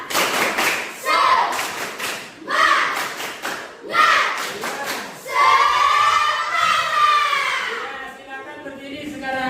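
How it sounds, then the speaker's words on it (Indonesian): A class of schoolchildren performs a rhythmic clapping chant, bursts of sharp claps alternating with shouted group chanting, ending in a long sustained collective shout. "coba tepuk semangatnya"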